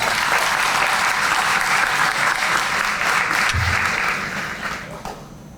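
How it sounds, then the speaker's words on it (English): A crowd at a police district community relations awards ceremony applauds honored officers, a loud, sustained burst of clapping that tapers off near the end. "Please, again, give them a collective round of applause."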